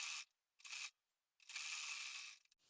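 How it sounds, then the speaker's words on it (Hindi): A sewing machine stitches the belt strip onto a blouse, running in three short bursts of whirring, the last one longest, separated by brief silences. "तो बस यहाँ पर हम एक पैर का मार्जिन लेते हुए सिलाई लगा लेते"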